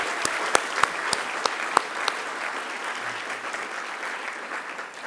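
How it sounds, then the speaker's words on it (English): An audience at a trustees' annual meeting applauds steadily, a close wash of clapping with a few sharp individual claps standing out before it gently tapers. "Could we have another round of applause for these 4 incredible board members?"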